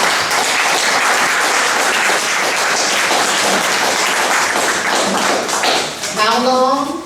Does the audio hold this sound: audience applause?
yes